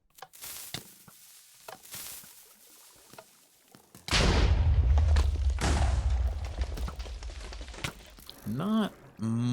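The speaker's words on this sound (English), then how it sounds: "Looks like Zakez is setting up a cannon for the entrance of second" A cannon fires in Minecraft and sets off a sudden heavy blast of rumbling explosions that fills the middle of the scene. Scattered sharp clicks and thuds come before it, and a voice talks near the end.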